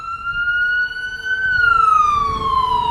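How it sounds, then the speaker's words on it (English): A wailing siren glides up and down in pitch, loud and fairly close, with low traffic rumble underneath. "Ambulance everywhere."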